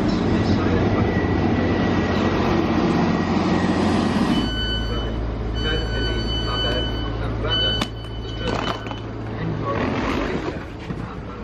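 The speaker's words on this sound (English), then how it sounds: "Here comes the train!" A train pulls into a station near a seaside pier, a loud rumbling approach giving way to a steady engine drone with high whining tones and brake squeals, while people talk over it.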